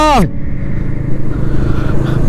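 Motorcycles ride in a group on a bike tour from Kolkata to Ajodhya Pahar, a steady close engine drone rumbling throughout after a short opening tone.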